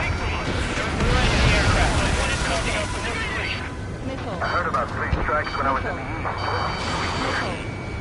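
Enemy aircraft in the flight game Ace Combat 7, a heavy continuous roar of jet engines with rumbling blasts layered on top. Voices talk over it throughout.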